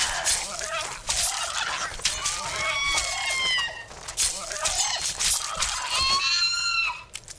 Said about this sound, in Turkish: Tavuk gibi ses çıkartıyorlar ya.